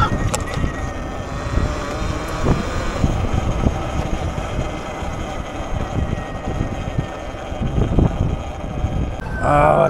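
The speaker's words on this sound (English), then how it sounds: "That wind's breezy." Strong, continuous wind buffeting and roar from riding a Talaria Sting R electric motorbike toward Seattle, loud and close throughout, with a rider speaking briefly.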